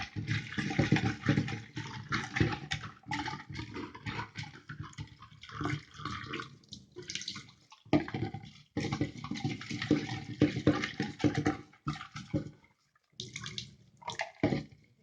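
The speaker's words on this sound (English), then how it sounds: "So wash your tamarind thoroughly" Water splashes and swishes in irregular bursts as tamarind is rinsed and rubbed in a bowl, with brief pauses between sloshes.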